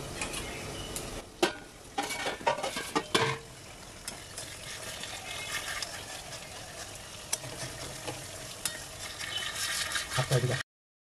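Pabda fish curry stirred in a pan after lifting the lid, irregular clinks and scrapes of a spatula over a continuous bubbling sizzle, close up, with no speech.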